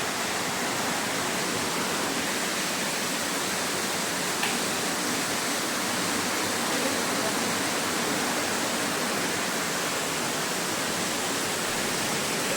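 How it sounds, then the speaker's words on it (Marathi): Dense, steady rain pours down at night in Mumbai as a constant hiss, with no let-up and no voices heard. "झोपायचं सोडून पाऊस बघतोय आम्ही दोघं"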